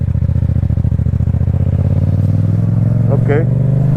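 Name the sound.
Yamaha MT-125 motorcycle pulling away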